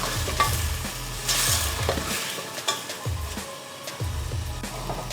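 Whole spices with cumin seeds and salt fry in a pot with a steady sizzle, broken by rhythmic scraping stirs and a few brief quiet gaps, close and moderately loud with no talking.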